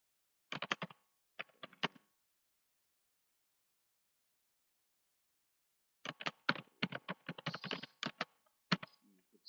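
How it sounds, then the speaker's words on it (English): A username is typed on a computer keyboard in two bursts of crisp, close key clicks, a brief flurry first, then a longer rapid run after several seconds of silence. "If you have some other username, you can type that."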